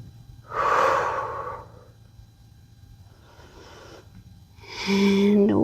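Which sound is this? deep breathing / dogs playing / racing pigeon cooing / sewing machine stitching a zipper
deep breathing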